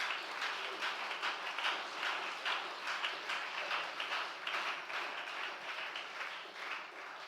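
A church congregation applauding during a sermon, a steady, fairly distant wash of many hands clapping with a faint rhythmic pulse, continuing evenly without speech.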